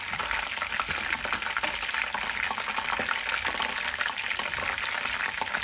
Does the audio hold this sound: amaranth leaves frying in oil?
yes